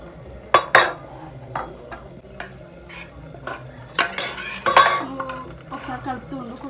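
Dishes, pots and cutlery clink and clatter during washing up, with sharp irregular knocks and scrapes close by, some louder than others, no talk.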